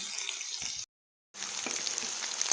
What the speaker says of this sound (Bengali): আলুর মধ্যে দিয়ে দেবো পেঁয়াজ আর ক্যাপসিকাম দিয়ে এগুলো সব ভেজে নেব